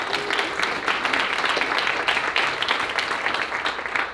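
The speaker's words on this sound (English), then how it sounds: "If we can give him a round of applause." An audience applauds steadily for the Mayor of Westminster at a public panel event, with dense, even clapping throughout and no speech.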